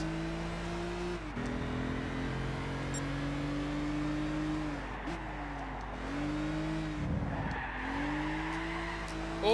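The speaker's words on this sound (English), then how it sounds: "Oh, drifting around that corner." A car drifting around a corner in Gran Turismo 6, the engine droning and shifting pitch while tires squeal loudly and continuously through the slide, close and with no talk.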